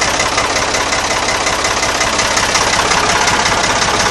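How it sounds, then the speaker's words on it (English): A tractor engine runs loud and close, a steady rough idle with a dense, even rumble and faint knocking texture, unchanging for the whole stretch. "I'm going to fire up the tractor"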